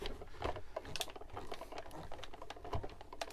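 A blade cuts through a single sheet of card for an insect specimen folio folder, giving a close, steady run of fine rasping and scratchy ticks with no talking.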